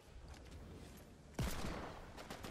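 Gunfire in Fortnite Team Rumble: a sudden loud blast about midway, followed by a crackling burst of shots over faint background game noise.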